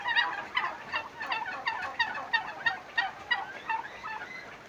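Domestic turkeys on a small home farm gobble in a rapid series of repeated bursts, fairly close and clear with no talking.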